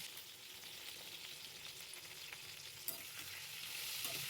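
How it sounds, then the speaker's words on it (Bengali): Spices frying in a pan with salt and turmeric for a sweet kul pickle, a faint steady sizzle with light stirring scrapes and one small knock, growing slightly louder, no talking. "কিছুক্ষণ ভেজে নেব।"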